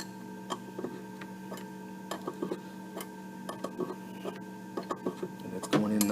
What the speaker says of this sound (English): you can go ahead and use your open end wrench to get it run most of the way down